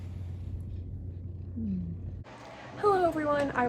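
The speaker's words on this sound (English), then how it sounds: "I apologize about the background noise of the fan." An electric fan runs in a warm room, giving a steady low hum that fills the first half, then a voice starts talking over a changed background.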